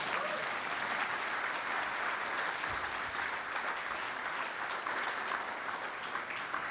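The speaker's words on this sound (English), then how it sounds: "that deserves a round of applause" A crowd claps together at a ten-year anniversary event for a reentry and skills-training organization, a fairly quiet, even, continuous patter of many hands without any voices on top.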